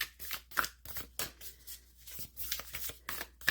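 Animal Oracle cards being shuffled and drawn, a run of dry papery flicks and riffles in short bursts with brief pauses between, close and fairly soft.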